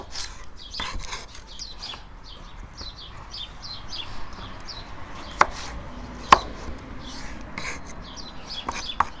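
A knife slicing an onion into half rings for Uzbek Fergana-style plov cooked outdoors over a wood fire, steady soft chopping taps with a couple of sharper knocks, birds chirping faintly in the background.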